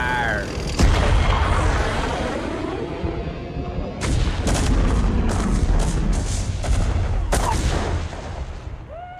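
Artillery fire in the video game StarCraft Remastered: heavy booming shots and sharp cracks thunder in quick succession over a loud rumbling battle din, with no other sound breaking through.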